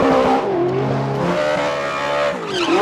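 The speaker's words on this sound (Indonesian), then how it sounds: "Wow, ada mobil balap Bugatti." A Bugatti race car engine revs loudly with a rising and falling whine and a brief tire squeal, close and continuous with no talk.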